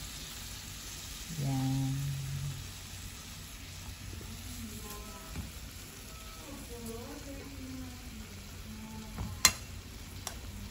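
Soy sauce poured into frying liver, a steady soft sizzle with stirring clinks and a brief louder hiss, with a short spoken word early on.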